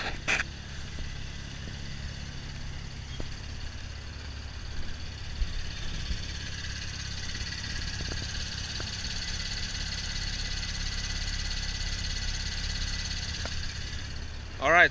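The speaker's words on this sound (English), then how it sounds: "from outside it's really the muffler that's making all the sounds" A 2012 Chevy Camaro convertible idles steadily through its muffler, a low, even rumble with occasional faint ticks, and a brief louder noise at the very start and end.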